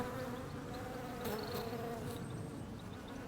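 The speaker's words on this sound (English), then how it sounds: "Just look at that lavender, it's teeming with bees. Hundreds of bees" Hundreds of bees buzz over lavender, a continuous droning hum with individual insects passing close by against the dense swarm.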